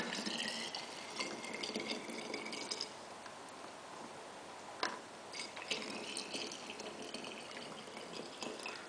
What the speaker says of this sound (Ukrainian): ми заливаємо кип'яток